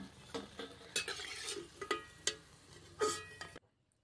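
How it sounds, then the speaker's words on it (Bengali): Cauliflower pakora fritters frying in a pan of oil, with a steady low sizzle broken by several sharp clinks and scrapes of a utensil, ending abruptly in near silence. "পরের ব্যাচটাও আমি একইভাবে ভেজে নিচ্ছি"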